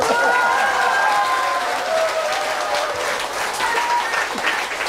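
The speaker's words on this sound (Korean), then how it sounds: "그래서 박수 주시는 거 아니에요?" An audience at a political speech breaks into loud, sustained applause, a dense crowd of clapping hands that carries on steadily and fades slightly toward the end.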